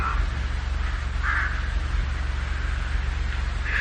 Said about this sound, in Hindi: फिर चुपचाप सुनते रहें हवाओं को, पक्षियों को।